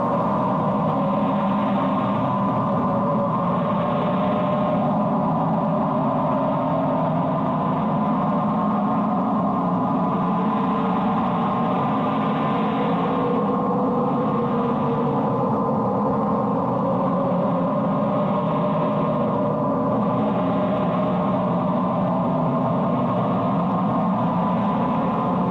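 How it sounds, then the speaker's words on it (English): Recorded rumbling from Axial Seamount, an underwater volcano, as a steady, dense low drone that persists throughout with slow swelling pulses, eerie and unbroken, with no voices. "This is the sound of the underwater volcano, the axial seamount."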